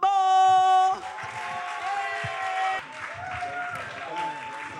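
Audience applause welcoming a guest onto a radio station's outdoor stage, scattered clapping and crowd noise rising under a loud sustained musical chord at the start, then continuing beneath music and voices.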